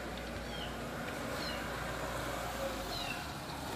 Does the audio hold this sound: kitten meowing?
yes